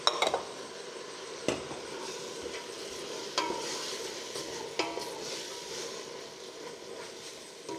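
Celery being sautéed in a pot for chicken sopas: a steady broadband sizzle with a few sharp clacks of a utensil scraping and stirring against the metal, close and moderately loud, with no voices.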